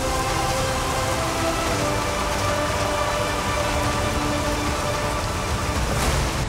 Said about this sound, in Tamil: மேட்டுப்பாளையம், காரமடை, சிறுமுகை உள்ளிட்ட பகுதிகளில் மிதமான மழை பெய்தது.